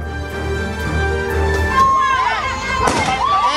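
Firecrackers go off during a street brawl between groups of residents in Makassar, with sharp bangs and whistling bursts over a noisy, shouting crowd.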